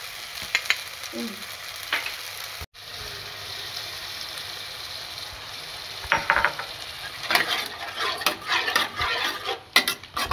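Vegetables with poppy seed paste and salt sizzle steadily in a pan, close and continuous, while a utensil scrapes and clatters against the metal in irregular bursts of stirring.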